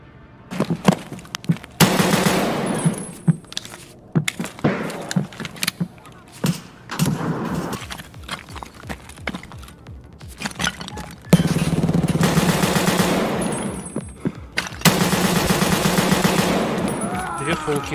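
STM-9 carbine fire in the video game Escape from Tarkov, a loud, close sequence of rapid automatic bursts and single cracks with short pauses between volleys, plus faint clinking and shattering impacts.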